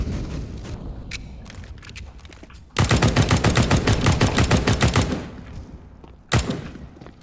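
Counter-Strike: Global Offensive gunfire: scattered softer shots give way to a loud, sustained rapid-fire burst lasting about two seconds, followed by one more sharp shot, with no speech.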